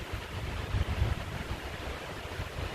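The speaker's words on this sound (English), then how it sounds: "That wind is gusting, sorry." Gusting wind outdoors buffeting the microphone, a continuous low rumbling roar that swells and eases over a few seconds, with no talk.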